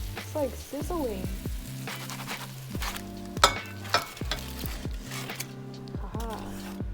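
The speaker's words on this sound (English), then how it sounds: "It's like sizzling." Food frying and sizzling in a pan with steam, a steady crackle broken by the clinks of utensils and cookware near the microphone.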